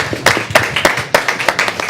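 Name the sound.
audience clapping at a city commission meeting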